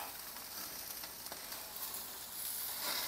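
Melted butter brushed over chicken wings on a grill sets off a bright, continuous sizzle, close and steady, growing slightly louder toward the end.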